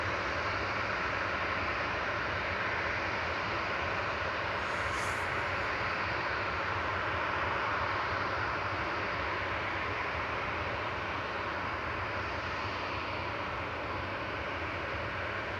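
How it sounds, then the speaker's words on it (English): A Jet2 airliner departing Manchester Airport for Tenerife South gives a steady, broad engine roar at a distance, holding evenly throughout without speech. "Jet2's JZBM's about to depart to Tenerife South next."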